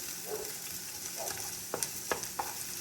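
Onions and garlic stirred in a hot pan for fried rice, a steady soft sizzle broken by a few sharp scraping clicks of the utensil near the end.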